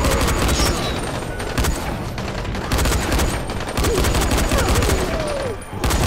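Rapid bursts of gunfire crackle continuously in Dying Light, dense and loud, with a few voices calling out faintly underneath the shooting.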